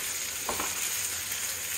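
Leftover rice with vegetables frying in a pan as bhaat bhaja, a steady close sizzle running throughout with a brief louder burst of crackle near the middle, no one talking.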